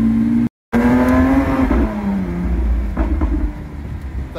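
SVJ supercar engine roaring near Monte Carlo, a loud, close rev that climbs and then settles into a deep rumbling drone, broken by a brief cut near the start.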